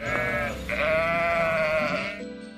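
Sheep bleat in a chorus of long, wavering calls, several overlapping cries sustained loud and close for about two seconds, with no talking over them.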